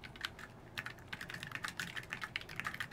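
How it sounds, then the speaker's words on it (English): Rapid clicky key presses on a small custom 31% computer keyboard sound close up and alone, a steady patter of crisp taps with a few quicker bursts. "I press these buttons. So I press click click over here."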